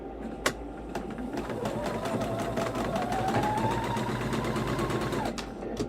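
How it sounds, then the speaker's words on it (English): A sewing machine stitches the right side of a foundation paper pieced ribbon star quilt block in a steady, close, continuous run of rapid needle strokes, with a sharp click near the start and no talk. "Okay, I'm stitching the right side,"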